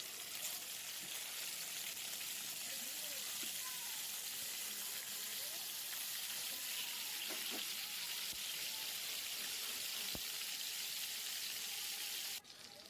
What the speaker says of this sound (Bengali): এবার তেলটা ভালো করে গরম হয়ে গেলে আমি মাছগুলো ছেড়ে দিলাম।